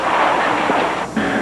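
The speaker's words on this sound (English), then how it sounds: "Like gunfire, the sound of maples falling." Cracking and crashing of ice-laden maple trees falling in a forest during the 1998 ice storm near Pakenham, Ottawa, heard as sharp gunfire-like snaps over a dense, steady background.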